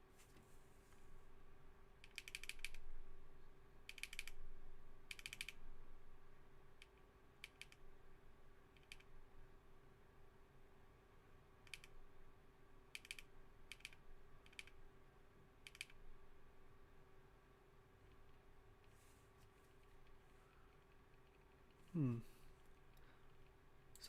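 Typing on a Keycult 2/65 mechanical keyboard with a PP plate and B-Sun Jade switches, sparse clusters of quiet keystroke clacks over a steady low hum, with one louder thump near the end.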